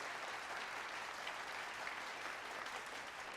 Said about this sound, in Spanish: Denle un aplauso al Señor, hermanos.